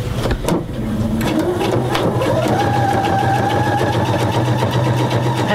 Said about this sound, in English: So all I'm doing is stitching straight down the middle of this ribbon